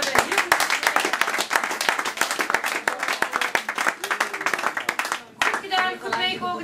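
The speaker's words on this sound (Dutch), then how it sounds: "waar ik eigenlijk ook echt een applaus voor wil." Audience at a Dongen sports day breaks into clapping for the organising interns, a dense run of sharp hand claps lasting several seconds before fading, with voices mixed underneath and a speaker resuming at the end.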